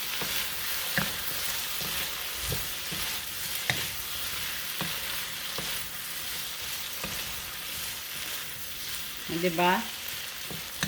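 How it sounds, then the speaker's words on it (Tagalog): Gai lan and assorted fish balls cook in stock in a pan, a steady sizzle broken by periodic utensil clicks and scrapes from stirring, with a brief voice near the end. "Yan guys, haluin natin."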